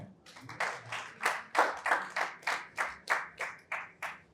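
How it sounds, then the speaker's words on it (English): At a business event, an audience claps in slow, evenly spaced unison beats, about a dozen steady claps, fairly faint and distant. "Please a round of applause for him."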